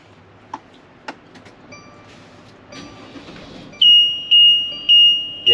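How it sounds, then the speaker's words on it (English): Cab warning chime in a 2020 Winnebago Vita 24F RV, four loud, evenly spaced electronic beeps close by, following a few faint clicks and soft background noise. "so it's going to beep at you, and I'll stop the annoying beeping here in a second."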